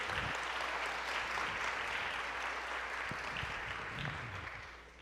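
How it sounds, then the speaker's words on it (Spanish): A church congregation at a Spanish-language service claps together in a full, even wave of applause that holds steady and then tapers slightly at the close, with no voices over it. "Le damos una bienvenida a ellos con un aplauso especial en esta mañana."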